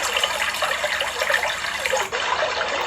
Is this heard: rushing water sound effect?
yes